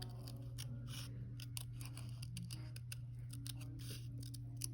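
Scissors cut through paper for a notan square, making a series of quiet, crisp snips at an uneven rhythm over a faint, steady background hum.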